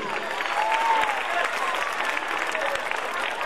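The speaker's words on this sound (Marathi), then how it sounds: "टाळ्या शेवटपर्यंत थांबल्या नाही पाहिजे." Applause from a school gathering's audience, a steady dense patter of many hands clapping throughout, with a faint voice drifting over it.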